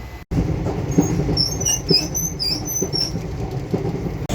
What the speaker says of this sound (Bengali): So finally the train is moving.